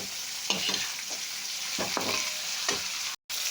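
Fish oil fries with slit green chillies and a little red chilli powder, a steady nearby sizzle punctuated by several short scraping stirs and a brief dropout near the end, with no talking.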